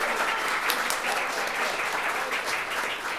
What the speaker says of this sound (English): I'm going to announce another round of applause for all of our finalists.